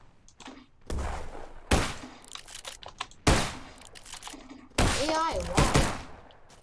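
Gunfire from American and German guns in the video game Trenches, with several sharp, loud bursts spaced a second or two apart amid clattering battlefield noise, and a voice speaking briefly between the shots.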